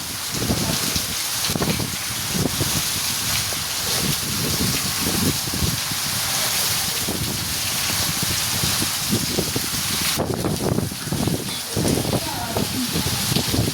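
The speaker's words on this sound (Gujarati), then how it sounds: "જો ધબધબાટી બોલાવી છે વરસાદ, ઉપડાની ધારે વરસાદ પડે છે, વીજળી પણ થાય છે।" Heavy monsoon rain pours steadily in Gujarat during a lightning storm, a dense loud hiss with pattering drops close by, and people talk through it.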